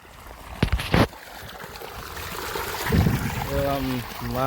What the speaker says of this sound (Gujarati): તમે જોયું જો અહીંયા પાણી આવે